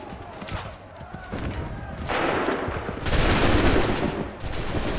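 Musket volleys fired by a line of soldiers in the Assassin's Creed III video game: dense crackling bursts of gunfire that grow louder in waves, with shouted commands between them.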